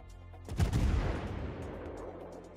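A heavy battleship gun salvo booms in World of Warships, one deep blast arriving with a rumbling roll that fades over a couple of seconds, moderately loud against steady background game noise.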